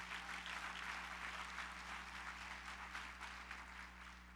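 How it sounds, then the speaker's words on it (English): Audience applause for small business award winners at an awards celebration dinner: steady, dense clapping filling the room for a few seconds over a low electrical hum, with no voices. "Let's give them all a round of applause for what they've done."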